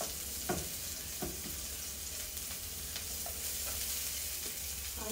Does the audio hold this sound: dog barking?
no